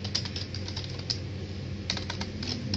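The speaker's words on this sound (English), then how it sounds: "for me, I type fast on the keyboard." Rapid typing on the keyboard of an Infinix JoyPad 10 tablet, a dense run of close, light key clicks with a few sharper taps, heard alone.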